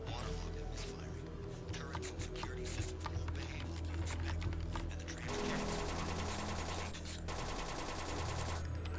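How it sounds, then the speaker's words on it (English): Rapid automatic gunfire from a machine gun in a hardcore-modded shooter, steady dense bursts that grow louder and harsher midway, under a constant low rumble of game ambience. "Machine gun's accuracy definitely proving a good asset."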